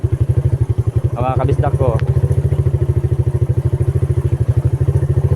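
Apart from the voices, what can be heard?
motorcycle riding on a rough road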